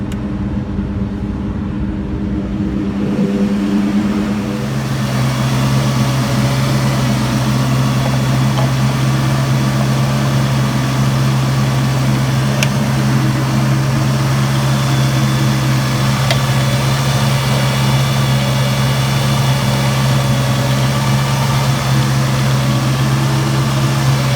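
A Ford Mustang Cobra 4V DOHC engine held at full throttle while parked with the heater on full, a steady loud drone with a strong low hum running without a break for the whole stretch.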